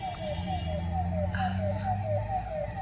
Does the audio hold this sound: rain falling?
no